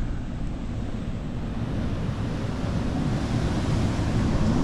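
Ocean waves wash up a beach in a steady, loud broadband roar with rumbling surf and some wind noise, constant throughout with no voices.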